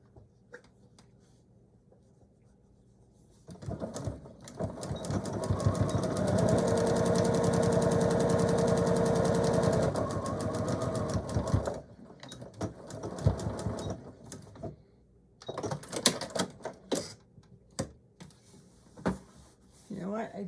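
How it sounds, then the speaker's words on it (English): Sewing machine stitching down a pocket on a DIY handbag, a steady rapid mechanical whir that runs several seconds and then gives way to shorter start-stop bursts, close and fairly loud. "And I'm going to stitch that down."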